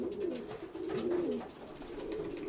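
Pigeons coo softly and repeatedly inside a pigeon loft, low warbling calls rolling one after another at close range with no talking.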